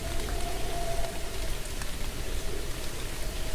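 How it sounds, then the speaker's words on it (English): Steady rain falls in the indie horror game The Moon Sliver, a dense continuous patter of drops on surfaces at moderate loudness, with no talking over it. "Now it's raining."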